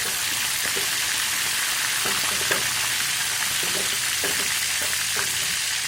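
Mackerel frying in hot oil with lots of garlic, a steady dense crackling sizzle throughout with faint scattered pops and stirring close up.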